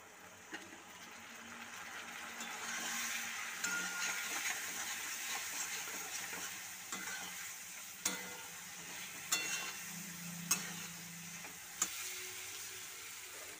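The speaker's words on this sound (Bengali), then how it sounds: "মশলাটা যাতে না পুড়ে যায় তার জন্য সামান্য পরিমাণে জল দিচ্ছি।" Ground cumin and coriander masala sautéing in a pan with a splash of water, giving a steady soft sizzle and hiss with occasional sharp clicks of a spoon against the pan.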